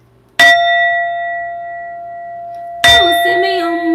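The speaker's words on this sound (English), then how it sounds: "I'm ringing the bell." A bell is struck twice, about two and a half seconds apart. Each strike gives a bright metallic clang followed by a long, clear ringing tone, and the first ring fades slowly before the second hit.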